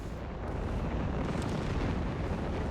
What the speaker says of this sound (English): The creeping barrage coming in